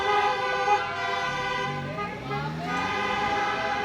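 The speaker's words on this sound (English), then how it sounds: "so they're driving through honking their horns" Wedding party cars drive through a square in Athens, Greece, blaring sustained, overlapping car horns that swell and shift in pitch as they pass close by, loud and continuous.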